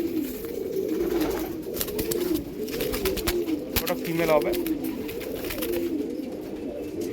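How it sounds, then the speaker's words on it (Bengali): Old-bloodline kalanka pigeons coo softly and repeatedly at close range while someone talks over them throughout. "আর পায়রা দেখুন, দুটোই পাট্টা পায়রা আছে, সেই পুরানো নাসলের পায়রা।"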